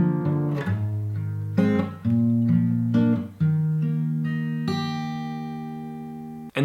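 Fingerpicked guitar chords, individual notes plucked in a gentle rolling pattern and left to ring, close and clear with no talking.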